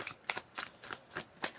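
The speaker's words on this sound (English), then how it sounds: "Let's shuffle the cards" A deck of tarot cards is shuffled in several quick riffling bursts, about six short papery flurries in steady rhythm, close and alone.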